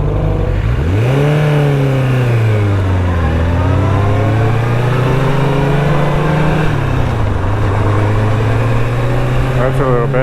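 A Suzuki Katana motorcycle engine revs close and loud, its pitch climbing, dropping and climbing again as it pulls away and shifts through the gears.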